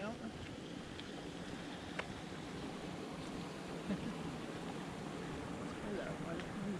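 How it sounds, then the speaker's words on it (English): Water falling at the top of Twin Falls, a steady broad rushing roar heard from close by, continuous and even with no talk over it. "You can hear water falling right here."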